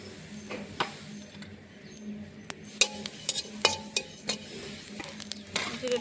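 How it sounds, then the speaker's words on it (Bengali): Cumin seeds dry-roasting in a dry pan on the stove, giving off soft scattered clicks and light scraping taps from stirring over a quiet background, with no talk. "এখানে শুকনো খোলাতে কটা জিরে ভেজে নেব।"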